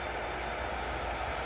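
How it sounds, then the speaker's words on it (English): A TUI Boeing 787 Dreamliner taxis out at Manchester Airport, its engines giving a steady, broad jet rumble and whine at moderate distance with no pause. "And also another heavy aircraft on the taxi out. We have the TUI Dreamliner."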